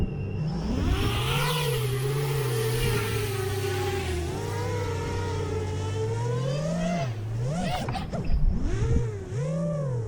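FPV quadcopter drone with Betaflight 4.3 tuning, its motors whining loudly as the throttle is pushed up and eased off in repeated swells, pitch rising and falling, then sharp quick blips near the end.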